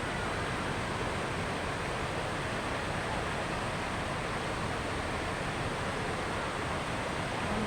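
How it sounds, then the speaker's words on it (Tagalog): Steady, dense rush of flowing water at a plaza fountain in Tuen Mun, Hong Kong, an even broadband wash that holds constant throughout with no voices standing out. "Panoorin natin yung agos ng tubig."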